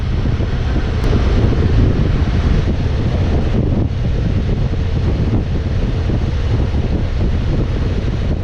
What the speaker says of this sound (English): it's pretty windy out here this morning